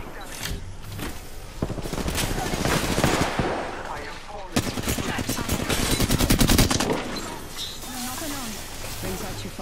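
Gunfire in the Apex Legends battle royale game: repeated bursts of rapid automatic shots, loud and close, with a longer sustained volley near the middle and a voice speaking briefly toward the end.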